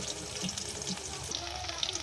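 Large chicken pieces fry in hot oil with a dense, continuous crackling sizzle and scattered pops, close and steady throughout.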